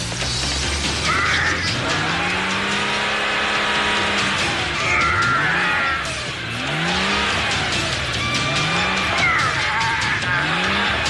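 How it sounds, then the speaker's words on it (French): A car braking and skidding to a stop, with tyre squeals rising and falling in repeated sweeping bursts over mechanical engine and chassis noise, loud and close, no speech. "Edouard, arrêtez la voiture"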